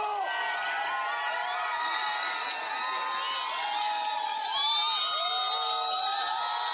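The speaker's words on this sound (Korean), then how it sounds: "뜨거운 함성으로 함께 해주십시오" A large crowd at a Democratic Party election campaign rally in Gongju, South Korea, cheering and shouting continuously, a dense roar of many voices that swells slightly toward the end.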